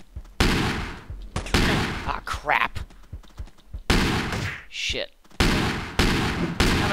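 Heavy rifle gunfire in the top-down shooter Teleglitch, coming in several loud, sustained bursts of rapid shots separated by short gaps, with a voice speaking and exclaiming between the volleys.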